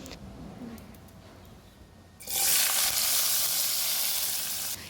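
Chopped large onion dropped into hot oil for a Tamil egg fry sets off a sudden loud, steady sizzle halfway through, following a quieter stretch of faint crackling.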